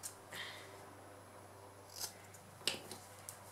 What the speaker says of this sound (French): je prends mes ciseaux et sur chaque angle, je fais attention de ne pas découper ma couture bien sûr, je coupe en biais comme ça.